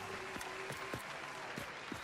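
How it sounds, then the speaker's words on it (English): A short burst of recorded applause played back during a Satisfactory game session: light, scattered clapping with a thin crowd texture at moderate volume and no speech. "I'll leave on the applause instead"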